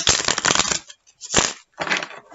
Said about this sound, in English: I will do one last shuffle here.